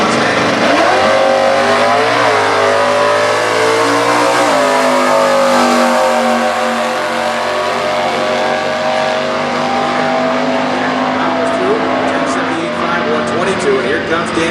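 An engine roars in a Stock Eliminator drag race at the US Nationals, where an 85 Ford Mustang with a 302 engine is running. The loud, sustained engine note shifts in pitch and sits under an announcer's voice throughout.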